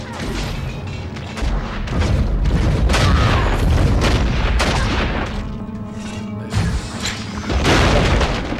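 Explosions boom through a PS2 game of Baldur's Gate Dark Alliance in a narrow corridor, a run of heavy blasts and crashes spread over several seconds with a sharp burst near the end, loud and dense.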